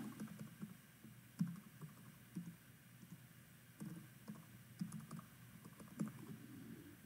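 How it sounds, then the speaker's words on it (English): A password typed on a computer keyboard, soft irregular clusters of key clicks and a few heavier taps, close but faint against a quiet room hum. "Worst part of my day right now is typing passwords."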